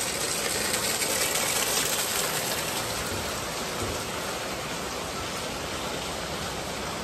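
Steady, dense rain pours onto a waterlogged market street lined with vendors, a loud continuous hiss with no voices.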